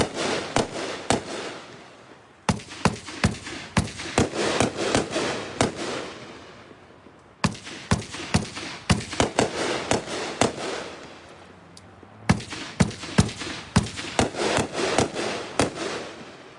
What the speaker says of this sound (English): 20-shot Star Child